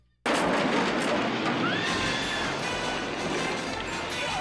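Gunfire in a Back to the Future scene erupts as a dense, loud burst of shots and crashes that goes on almost without a break, with horse whinnies and shouts mixed into the din.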